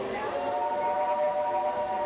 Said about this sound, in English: Listen here, the train.